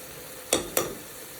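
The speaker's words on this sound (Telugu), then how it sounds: "ఇది ఇంకోసారి ఫ్రై చేసేసుకుందాం" Spices such as Kashmiri chilli, garam masala and turmeric frying in hot oil, a low steady sizzle broken by two quick scraping stirs close by, no voices.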